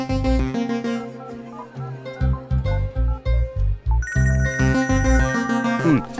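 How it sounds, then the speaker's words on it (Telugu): A mobile phone plays a melodic ringtone, a bright rhythmic tune of repeated electronic notes sounding loud and close with no voices. "నేను నా ఫోన్లో రింగ్ టోన్ ఆన్ చేసుకుని పక్కకి వెళ్తాను"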